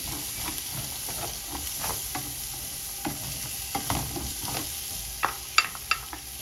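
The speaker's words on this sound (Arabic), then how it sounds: "هجيب مكعب زبده، تمام، وهنزل بقى ببصلايه كده متقطعه مكعبات صغيره واقلبهم بالطريقه دي" Butter and small diced onion sizzle in a tray while a utensil stirs them, producing soft scraping and tapping that grows into several sharper clacks near the end, close and moderately loud.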